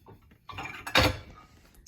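Deep ceramic plates knock and clink together briefly, one sharper clatter in the middle, close by and without talk.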